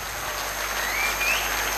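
A crowd applauds with a dense, steady patter of clapping that swells slightly toward the end, without talk.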